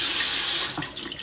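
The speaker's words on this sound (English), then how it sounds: "the water coming out of the tap is actually pretty cold here in Destin, Florida" Cold water runs steadily from a kitchen tap into a sink in Destin, Florida, a bright rushing splash close by that shifts in tone partway through as the flow changes.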